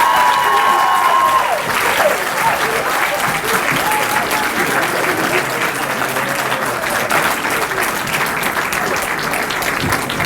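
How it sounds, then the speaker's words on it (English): Loud, sustained applause from a school audience at a Founders Night event fills the whole stretch, a dense wash of many hands clapping at close range with faint crowd noise beneath. "Another round of applause for our storytellers"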